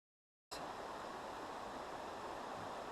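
A brook rushes steadily over rocks where it flows into a major river near Ledge Falls on the Doubletop Mountain North Trail at Katahdin, a broad continuous watery roar starting abruptly and holding constant, near and fairly loud, with no voices.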